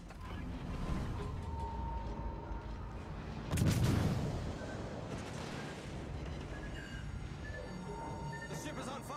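In a naval warfare video game, torpedoes launch at an enemy ship: one loud, rumbling burst about midway rises over a steady bed of mechanical ship noise and game effects, with a voice audible.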